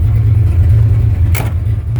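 A Ford Fox Body with a B cam, stock bottom end and ported GT40 heads revving in a driveway; a loud, close, lumpy idle rumble with a brief sharp blip of throttle near the middle.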